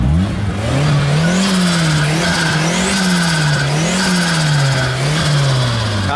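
A car engine revs loudly and close by in repeated rising and falling surges, each climb in pitch followed by a drop, running continuously throughout.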